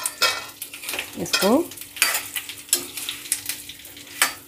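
Raw mango pieces are stirred and lightly fried in a pan: soft sizzling under repeated scraping strokes of a spoon, close by, with a few brief spoken words near the end.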